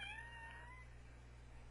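A cat meows over a steady low hum, one rising-falling call in the first second, close and fairly quiet, then only background hum.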